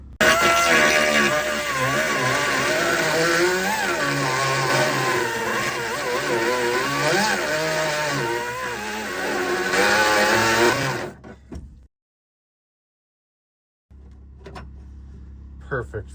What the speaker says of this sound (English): Just cleaning up the holes a little bit with the die grinder.